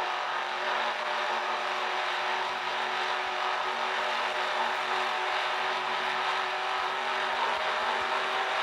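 A classic stock car engine in a racing video game drones at a steady, high revving pitch without letting up, with faint regular ticks underneath and no voice.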